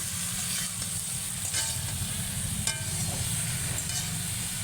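Eggplant pieces sizzle and crackle in hot oil in a pan while being stirred, with a steady close frying hiss and occasional scraping clinks, and no voices.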